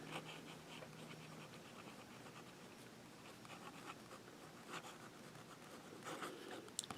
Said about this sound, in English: Let's do some reverse writing.